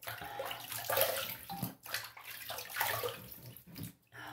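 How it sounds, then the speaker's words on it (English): Running water from a tap rinses a stainless steel safety razor in a bathroom sink, a steady close splashing hiss with brief pauses and shifts as the blade moves under the stream. "Let me rinse up here."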